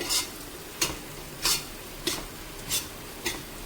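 Onions with ginger garlic paste and turmeric fry in a pan for chicken biryani, a steady sizzle broken by six evenly spaced scraping strokes of a stirring spoon, close and without speech.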